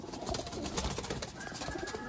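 Sialkoti pigeons of the rooftop chuha breed cooing, a dense continuous chorus of soft low coos with a steady, busy murmur throughout.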